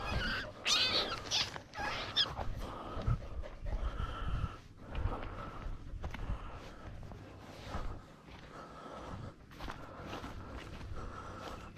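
Dog panting during a day of ferreting along an old fence line, quick breathy huffs near the microphone with rustling movement and footsteps mixed in, irregular in rhythm.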